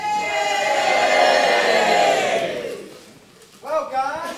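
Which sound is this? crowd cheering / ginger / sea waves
crowd cheering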